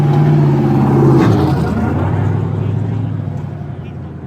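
A turbocharged Mopar engine at a drag racing event revs loudly nearby, its tone climbing and then easing into a droning run that slowly fades, with people talking over it.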